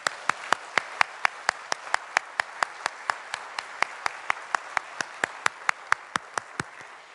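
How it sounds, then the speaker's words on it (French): Clapping at a college graduation ceremony in Timmins, heard as crisp, evenly spaced claps, about four per second, from one nearby clapper over a quiet room. "Une bonne main d'applaudissements pour ces gens ici."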